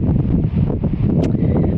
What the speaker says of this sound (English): it's really, really windy up here at the minute